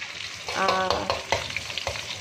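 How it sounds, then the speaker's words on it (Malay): Anchovies (ikan bilis) frying in a pan, crackling and sizzling with a few stirring scrapes, close and moderately quiet, no talk. "so kita goreng dia sampai dia dah garing sikit"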